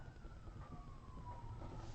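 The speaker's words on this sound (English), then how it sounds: "is that siren going in circles around me or something?" A faint, distant emergency siren wailing somewhere outdoors, its tone slowly sliding as it seems to circle, heard beneath a low steady background hum.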